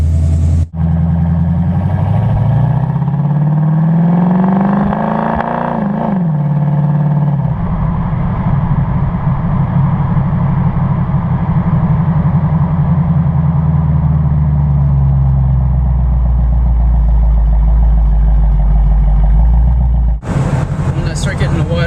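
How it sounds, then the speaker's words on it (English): A car engine fitted with an Edelbrock Thunder Series carburetor with annular flow boosters revs up toward wide open throttle while driving, a loud rising roar that peaks, drops back and then drones steadily, with brief voice at the edges. "I'm going to try to get it close to wide open throttle before I run out of the road here"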